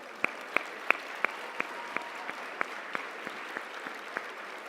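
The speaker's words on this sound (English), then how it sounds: "Keep the applause going to all of these exceptional women that were honored here tonight." At a women's hall of fame induction evening, a small audience claps in a thin, fairly quiet spread of hands, with a few sharp individual claps standing out at a steady pace.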